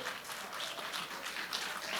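Congregation applauding during a church sermon, a steady wash of clapping that fills the whole stretch at moderate level, no speech over it.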